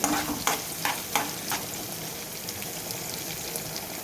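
Coconut pieces stirred and roasted in a pan for squid roast, a continuous sizzle with a few scraping stir strokes early on, close and fairly quiet.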